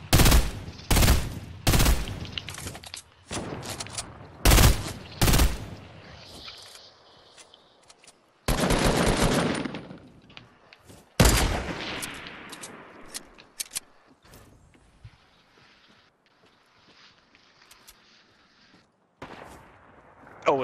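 Video game gunfire rattles out in loud, close bursts of rapid shots, separated by quieter stretches with faint rustling and movement.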